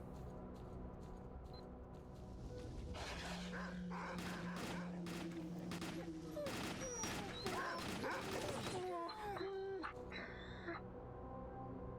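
Dogs in S.T.A.L.K.E.R.: Call of Pripyat bark, yip and whimper in a busy cluster of short yelps and cries, mixed with game noise and some gunfire-like bursts.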